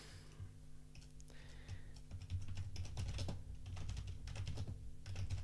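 Rapid clattering keystrokes on a computer keyboard, close and fairly quiet, typed in uneven bursts over a low steady background hum.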